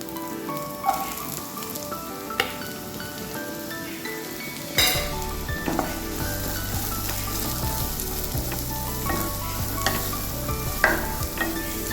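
Sliced onions go into hot oil after the ginger for a potato curry. A quieter sizzle swells into a sudden loud rush as the onions land, then settles into a steady frying hiss with repeated stirring scrapes.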